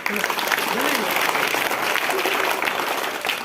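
An audience at a talk on the value of education claps loudly and continuously in a dense round of applause that lasts the whole stretch.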